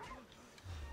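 A dog in the video game Assassin's Creed Odyssey gives a brief, faint bark or yip, lasting under a second among low game ambience.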